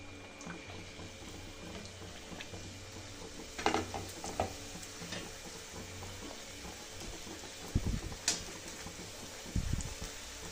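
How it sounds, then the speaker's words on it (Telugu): Puris frying in hot oil in a pan over a medium flame, a quiet, steady sizzle with a few soft clinks and bubbling pops scattered through, no talking. "ఆయిల్ హీట్ అయిన తర్వాత ఫ్లేమ్ని మీడియంలో పెట్టుకొని ఈ పూరీలను వేసుకోవాలండి"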